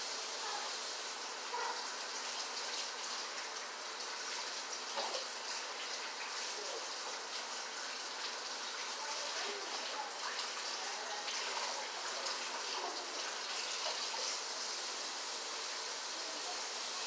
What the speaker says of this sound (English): I'm about to rinse up the sausages.